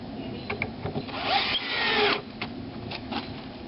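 A power drill drives into a 2x4 wood board while a kestrel nestbox sliding pole mount is assembled, the motor whirring in a sustained burst mid-clip between shorter bursts and clicks, fairly close.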